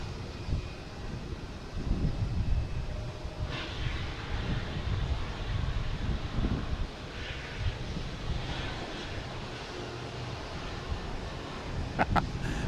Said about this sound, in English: Next takeoff is JetBlue heading to